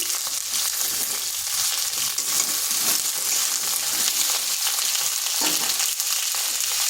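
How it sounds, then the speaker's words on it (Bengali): Pointed gourd (potol) halves frying in mustard oil with salt and turmeric in a pan, giving a steady, dense sizzle throughout while being turned and stirred, close and loud, with no talking. "পটলটা এভাবে নেড়ে চেড়ে ভেজে নিচ্ছি"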